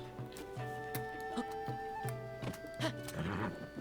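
Horse hooves clip-clop on the ground in Tears of the Kingdom, a steady rhythm of sharp thuds beneath sustained game music tones, fairly close and moderately loud.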